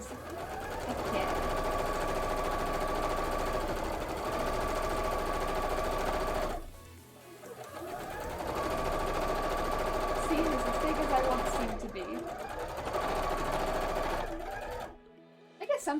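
Sewing machine running in long continuous bursts while stitching big chunky seams on a cosplay cape, loud and close, with two short pauses between runs and a stop near the end.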